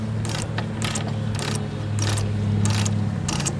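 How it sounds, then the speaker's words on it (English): A Lumar 16 anodized aluminum sailboat winch is spun by hand in repeated bursts, each turn giving a rapid metallic ratchet clatter with a faint grinding undertone, close and clear over a steady low background hum. "This winch sounds like it's serviceable, but definitely in need. There is some grinding in there."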